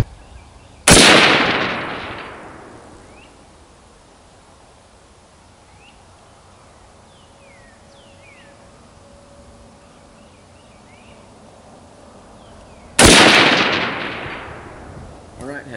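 Two sharp, loud rifle reports from 25 GPC loads firing 75-grain Hammer Hunter bullets at a 300-yard target, about twelve seconds apart, each trailing off into open-air echo with faint birdsong between.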